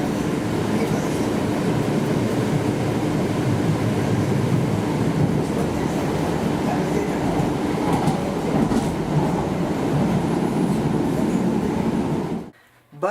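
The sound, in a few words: riding inside a Type 1 MAX light rail car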